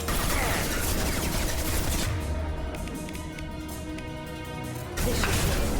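Gunfire bursts in the video game Mass Effect, a loud, dense fusillade with crashing impacts that drops briefly into a quieter stretch before the shooting surges back at full strength.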